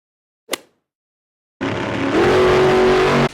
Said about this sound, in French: Magomed, un putain de tracteur.